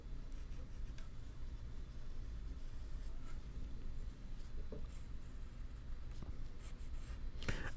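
Pencil drawing on damp painted paper during a seascape art lesson, a close continuous scratchy scribble with brief strokes and taps, steady and fairly quiet.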